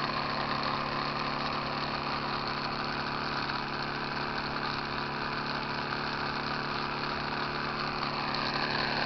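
A small electric motor driven wirelessly by a homemade pill-bottle Van de Graaff generator hums steadily, a constant close mechanical whir with no break.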